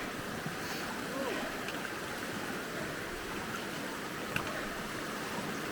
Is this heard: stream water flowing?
yes